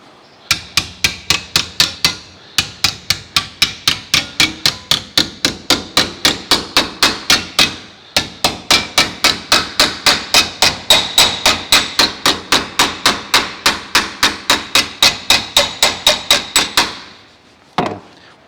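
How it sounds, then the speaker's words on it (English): Steady, rapid hammer blows ring on sheet metal being folded over, dozens of sharp close strikes in an even rhythm with two brief pauses, ending in a scraping clatter. "if we sit another piece of metal in here and then hammer it over"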